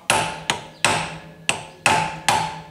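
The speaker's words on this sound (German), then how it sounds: "Wir fangen hier damit an, die Staubkappe abzuschlagen. Das könnt ihr mit so einem Meißel machen und mit einem Hammer." A hammer strikes a chisel to knock the wheel hub dust cap off a VW Golf 2 GT Special, six sharp metallic blows at a steady, unhurried pace, each ringing briefly, close and loud with no talk.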